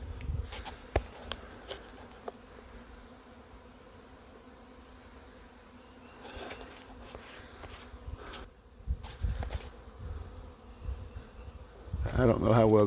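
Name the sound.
swarm of bees buzzing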